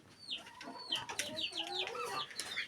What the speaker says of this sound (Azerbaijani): Çilli toyuq var dostlar.